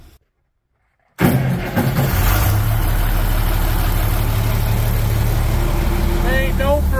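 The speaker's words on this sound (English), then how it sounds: "Had the good old 806 diesel plugged in for a few hours, so we'll see if she fires up here now." A Farmall 806 diesel tractor, plugged in for hours in winter, fires abruptly after silence and settles into a loud, steady, close throbbing idle that carries on to the end.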